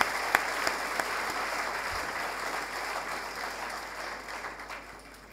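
Applause in a church congregation for the children at a Sunday Advent service, a sustained roomful of clapping that gradually fades out.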